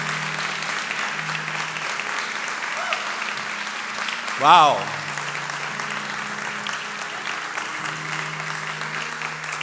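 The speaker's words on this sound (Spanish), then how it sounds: "con un aplauso" A church congregation applauds to welcome first-time visitors, a sustained crowd clapping under a speaker's voice, with a brief louder burst midway.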